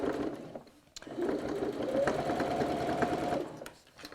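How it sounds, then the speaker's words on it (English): Sewing machine running steadily as it stitches through faux leather and fabric, a continuous close whirring hum that starts after a brief pause and runs without strain before stopping near the end. "at this section, I'm sewing through that fabric as well."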